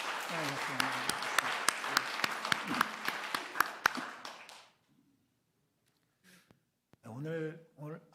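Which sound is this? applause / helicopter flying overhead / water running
applause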